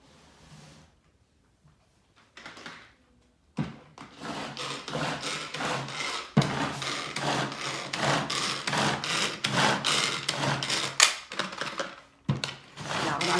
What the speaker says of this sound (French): on va vous montrer dans le hachoir mélangeur, on va hacher